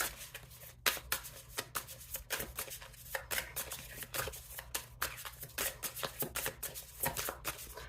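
A tarot deck being shuffled and cards drawn close by, quiet crisp flicks and riffles in an irregular run of short bursts, no voice.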